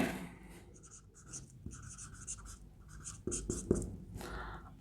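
Marker or chalk strokes scratch across a board during a maths lesson on recurring decimal fractions, a quick run of short squeaky strokes with small taps, close and alone.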